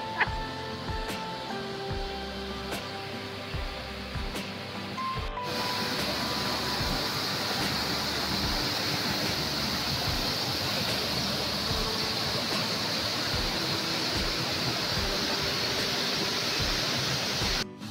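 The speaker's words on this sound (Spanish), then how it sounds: "una pequeña pero hermosa cascada que verás a continuación." A small but pretty waterfall on a trail near a hotel in La Cumbre. After a few seconds of quieter tonal background, a loud, steady rush of falling water takes over and holds constant to the end.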